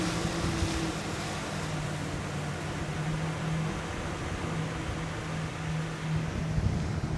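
A Beneteau Antares 12 Fly motorboat eases off the plane at about 13 mph, its engines a steady low drone under broad hull and water rush, continuous with no speech.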